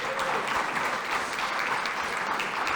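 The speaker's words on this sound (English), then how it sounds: "Can we give him a round of applause?" Audience applause at a speaker panel event, steady dense clapping throughout, close and moderately loud with no speech over it.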